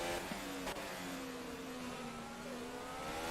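An F1 race car engine in a video game hums steadily at a fairly high pitch, with a quick shift blip early on and then a gradually falling tone, faint and distant with no voices.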